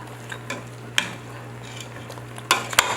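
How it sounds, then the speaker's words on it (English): Goat meat with skin being stirred in a pot for curry stew, a spoon scraping and clinking against the pot several times over a low sizzle and steady hum. "Stir."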